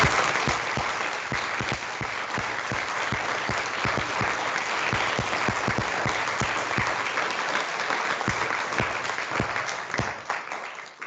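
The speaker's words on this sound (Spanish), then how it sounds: "Démosles un fuerte aplauso." Loud, sustained applause from a conference audience in an auditorium at a Mexican agroecology congress, dense clapping running steadily throughout with no talk over it.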